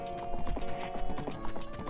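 Epona's hooves clip-clop in The Legend of Zelda: Ocarina of Time on the N64, a quick, steady galloping rhythm of hoof beats over faint background game music.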